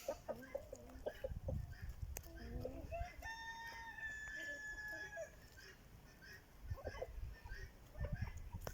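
Several chickens cluck and chatter close by on a manure heap, with a rooster's crow rising in the middle and soft scratching and rustling underneath.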